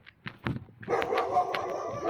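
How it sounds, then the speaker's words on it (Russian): A dog barks in a village on the Baikal-Amur railway line, a few sharp separate barks followed by a longer, steadier bout of barking close by, with a voice briefly heard. "Ну и чё гавкаем?"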